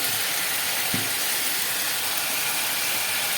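Onion, ginger-garlic paste and spices fry in hot oil, giving a loud, dense, continuous hiss and sizzle with a single brief knock near the start.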